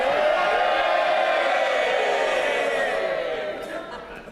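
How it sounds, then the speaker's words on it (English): Loud, sustained roar of cheering and shouting from members packed into the House of Commons chamber during Prime Minister's Questions, holding steady before tapering slightly toward the end. "This is the moment for cheering."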